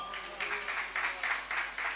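A congregation at a church service led by Arch Bishop John Markandeya claps in repeated bursts, about six rhythmic waves of hand claps at moderate loudness, with no speech over them.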